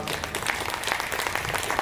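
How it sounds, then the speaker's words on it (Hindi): A brief burst of scattered clapping from a small audience at a Hindi stand-up comedy stage show, thin and uneven rather than a full ovation, lasting under two seconds. "7-8 लोगों ने ताली बजाई है"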